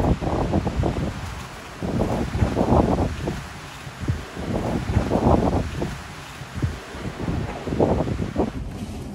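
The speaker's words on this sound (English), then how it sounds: "the wind has really picked up" Strong wind gusts roar over open sea off the Big Island of Hawaii, buffeting the microphone in rising and falling waves with a steady rush beneath, loud and continuous.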